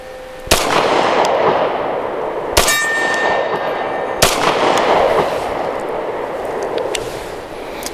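Three sharp, loud gunshots from a Smith & Wesson Equalizer pistol firing hot 124-grain NATO-spec ammunition outdoors on a steep mountain slope, spaced a couple of seconds apart, each with a long ringing, echoing tail.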